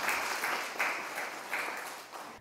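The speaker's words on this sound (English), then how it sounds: "Round of applause, please." Steady round of applause from an audience at an official state ceremony marking Ethiopian-Indian ties, a dense, even wash of clapping with gentle rhythmic swells, heard alone without talk.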